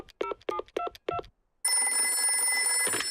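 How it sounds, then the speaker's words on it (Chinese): Cartoon telephone being dialed in a Peppa Pig episode: four evenly spaced beeping key tones, a short pause, then a sustained electronic ringing tone that cuts off at the end. "我马上打个电话给棕熊医生"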